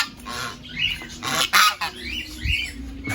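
Geese honk close by in a few loud, nasal calls spread across a few seconds, over a low outdoor background.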